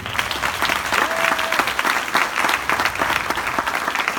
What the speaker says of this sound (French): On peut s'applaudir, non, pour ça? On peut applaudir.